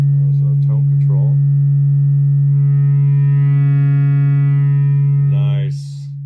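A steady test tone runs through the mic input of a Silvertone 1432 tube amp while the tone control is swept, with short chirpy bursts at the start and brighter hissy sweeps near the end before it cuts off.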